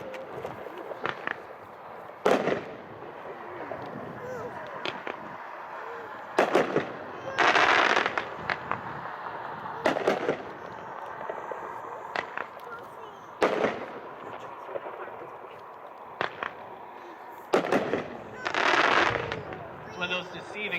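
Dakota Double consumer fireworks from Lew's at a demo show: a string of sharp booming breaks and crackling bursts, irregularly spaced and fairly distant, with people talking between them.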